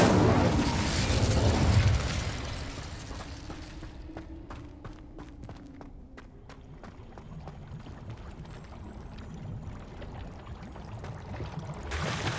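Casting the Incendio fire spell in Hogwarts Legacy releases a loud rushing whoosh of flame, which fades into scattered crackling pops and a low sustained burn.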